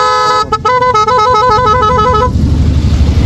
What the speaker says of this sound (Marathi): या ठिकाणी हे जे हॉर्न वगैरे ठेवलेत हे चालू आहेत का बंद आहेत